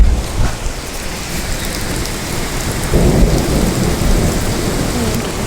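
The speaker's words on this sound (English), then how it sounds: "If you can't hear, it's like thundering." Heavy rain pours loudly and nonstop in Reno while deep thunder rumbles underneath, the downpour strengthening partway through, with no voices.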